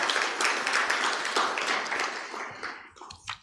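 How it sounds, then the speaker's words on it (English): Dense audience applause fills a hall at an annual general meeting, steady and close for about three seconds, then thins into scattered claps and fades out. "So let's applaud her in absentia."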